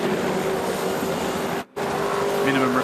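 V8 Supercars racing at the Sydney 500 in 2015, with loud engine roar from cars passing close by, a brief drop-out midway and a commentator speaking over it.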